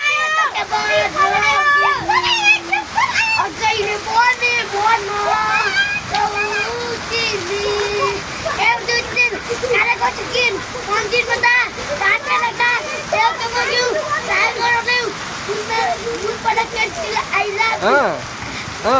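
Steady, heavy rain rushes without pause, with voices talking loudly over it throughout.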